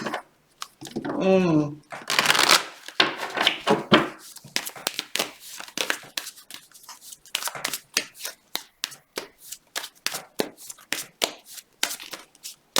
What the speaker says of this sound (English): Let's get some cards here from the romance angels.